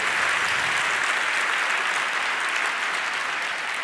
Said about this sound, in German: was auch wieder mal ein Applaus wert ist